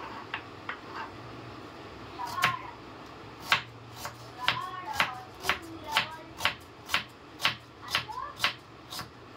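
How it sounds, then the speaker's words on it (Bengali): A knife thinly slices onions on a board, giving sharp, close chops that start sparse and settle into a steady, quickening rhythm. Quiet talk sits underneath. "চলুন তাহলে পেঁয়াজগুলো আমি ঝটপট করে এরকম ঝিরিঝিরি করে কেটে নিই"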